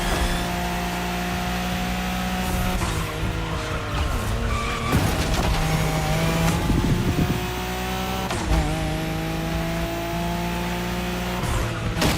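Tires squeal and the engine whines and revs through gear changes as a race car speeds through the Tokyo Bayshore route in The Crew Motorfest, close and loud, with sharp skids and shifting engine tones.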